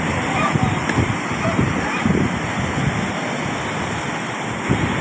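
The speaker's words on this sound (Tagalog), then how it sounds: "Naulan, lalaki ng alon no." Large ocean waves crash and roar continuously during a typhoon with rain, a dense broadband surge with wind buffeting the microphone and no clear separate breaks.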